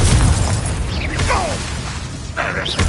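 Crackling blasts and popping bursts of the Confringo fire spell in the Hogwarts Legacy video game, loud and close, with whooshing zips of magic over a rumbling, chaotic fight.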